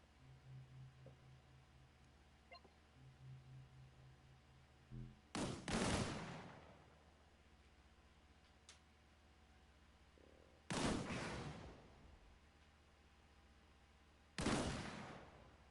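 Three loud gunshot bursts, spaced several seconds apart, are fired at a barrel in the video game Disintegration, each ringing out over a faint, quiet background hum.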